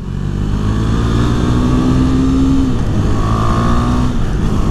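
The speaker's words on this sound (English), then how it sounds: "If you keep the RPMs low, the exhaust at the low speeds definitely sounds a lot nicer." Steady low rumble of a 2018 KTM Duke 390 motorcycle engine idling at low revs, loud and close, with a slight rise and fall in pitch and no voices.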